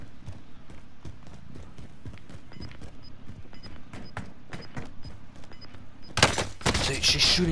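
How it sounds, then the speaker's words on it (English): Call of Duty Warzone gunfire, a run of sharp single shots at an uneven pace under game noise and voice chat, ending in a louder burst of fire. "She's shooting at me"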